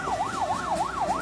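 A fire engine and police car siren wails in a steady up-and-down sweep, fairly close, with faint street noise beneath it.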